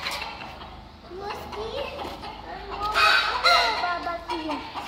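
A rooster calls among a flock of hens in a backyard, the loud clucking and crowing mixed with the voices of children and adults talking nearby.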